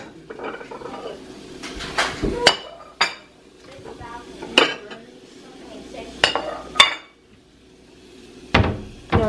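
Plates and dishes being handled while food is served during a short hotel trip in America, with repeated sharp clinks and clatters of ceramic against ceramic and cutlery, close and fairly loud between quieter moments.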